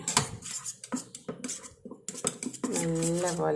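A spoon mixes curd in a small bowl for a face pack, brisk close clinks and scrapes against the bowl, ending with a voice speaking briefly.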